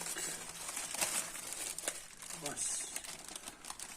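Crinkly plastic rustling in irregular bursts close by, with a voice speaking quietly underneath.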